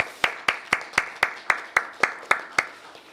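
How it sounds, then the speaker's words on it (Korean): A church congregation claps at a Friday night healing service, about ten sharp, evenly spaced claps in a steady unison rhythm before stopping. "영광의 박수를 올려드리겠습니다."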